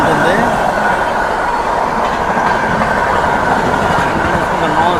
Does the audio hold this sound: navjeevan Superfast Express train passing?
yes